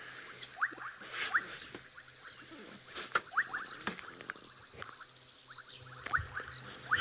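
Bubbling kassina frogs calling in a dense outdoor chorus at sunset on safari, overlapping bubbling trills and chirps from several directions, steady and moderately faint, with no voices.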